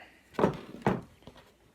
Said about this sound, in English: quick knock with the hammer